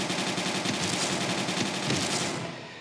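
Rapid automatic gunfire in the first-person shooter Elite Strike, a sustained rattling burst of shots at steady loudness that cuts off near the end.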